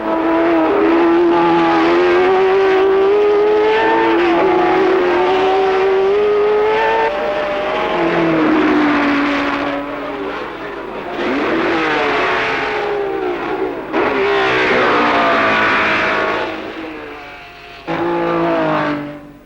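1967 Formula 1 race cars, with Repco Brabham, Ferrari and Honda among them, run at the Nordschleife. Loud, high-pitched engines rise and fall in pitch through several revving surges and passes, strong and close almost the whole time.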